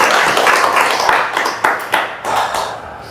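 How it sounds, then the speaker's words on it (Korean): A church congregation claps together during a service, with brisk, uneven hand claps that swell and fade over a few seconds. "우리 서로를 위해서 박수 한번 치시죠."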